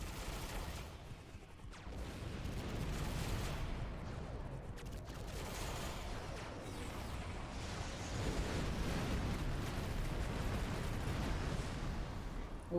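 In a starship video game, phaser and torpedo fire mixes with explosions as a dense, continuous roar of rumbling blasts and crackling bursts. The barrage stays loud throughout and swells slightly toward the end.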